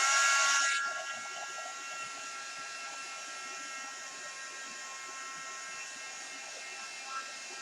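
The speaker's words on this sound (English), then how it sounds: "it's basically just a super powered dryer. It gets really hot." A heat gun drying paint on a craft piece blows a steady, bright, rushing hiss of hot air at close range, louder at first and then settling into an even whoosh.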